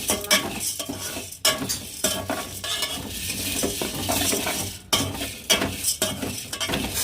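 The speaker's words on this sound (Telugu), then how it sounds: "ఇంక లైట్గా ఫ్రై చేద్దాం" Toor dal fries lightly in a pan while a spoon stirs it. Repeated scraping strokes and clinks of metal sound over a low, steady sizzle, close up and with no voices.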